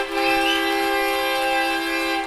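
A loud, steady air horn blast holds for a couple of seconds at a high school hockey game, its flat harmonic tone ringing through an echoing arena.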